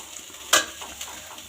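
Greens (shak) frying in a pan give a steady soft sizzle, broken by a sharp scrape of stirring and a few lighter taps of a utensil against the pan.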